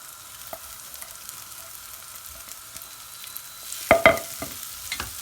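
Grated potatoes tossed with spices in a pan, with a soft frying hiss throughout and a short burst of sharp spatula scrapes and clinks near the end; no talking.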